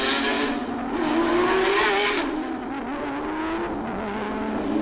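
Race cars on the grid of a street circuit at the Bangsaen Grand Prix doing burnouts, a loud sustained roar of engines and squealing tyres, rising and easing over the few seconds with no talk.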